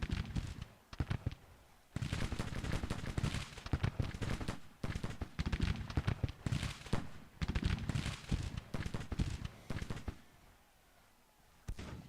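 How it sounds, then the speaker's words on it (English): Brigades firing muskets in a Grand Tactician: The Civil War battle at Gettysburg, ragged volleys of crackling shots in dense bursts separated by short lulls, loud and near, then thinning toward the end. "They're still shooting back."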